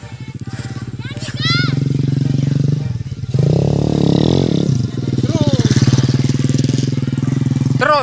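A Lenka 110 cc mini trail motorcycle, running close and loud with a steady throbbing engine note that surges when revved in the middle, while voices call out over it.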